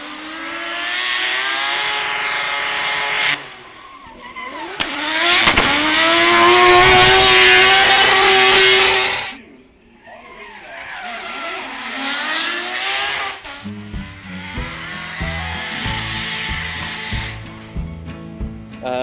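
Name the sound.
race car engine with long exhaust, sharp sound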